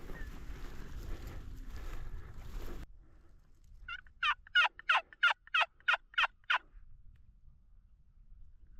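A Rio Grande turkey gobbles in open Colorado terrain, a single burst of about eight rapid, loud pulses, moderately near after a quiet stretch that follows a few seconds of wind and rustling.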